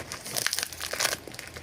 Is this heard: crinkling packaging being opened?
yes